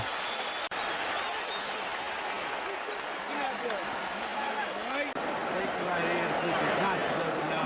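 A large boxing crowd cheers during the Holyfield vs Foreman heavyweight fight, a sustained roar of voices and applause filling the arena, with a ringside commentator's voice heard over it and a couple of sharp thuds.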